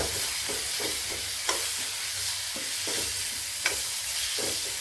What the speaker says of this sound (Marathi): आता या टमाट्याला छान तेलामध्ये भाजून घेते, नरम होजेपर्यंत.